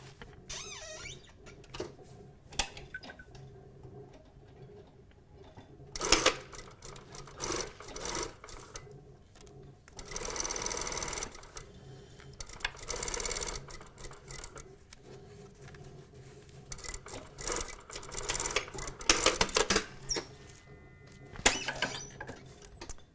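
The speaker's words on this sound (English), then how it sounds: "We're going to stitch 6mm from here to the waist." Sewing machine stitching a trouser pocket bag 6mm in toward the waist on a slanted side pocket, running in several short, fairly loud bursts separated by pauses, with no talking.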